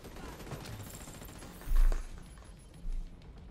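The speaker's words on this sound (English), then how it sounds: "there's a turret behind us" Turret gunfire in The Division 2 video game, a rapid burst of automatic fire with two heavier booms rising out of a dense, steady background of battle noise.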